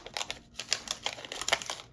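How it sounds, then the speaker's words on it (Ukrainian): Plastic surprise packet crinkling as it is torn open, close and fairly quiet, with a rapid run of small crackles and rustles lasting about two seconds, no voices. "Відкривайся, пакетик відкривайся."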